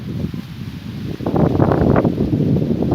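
Gusty wind buffets the microphone, a low rumbling roar that strengthens halfway through and stays loud, with no voices.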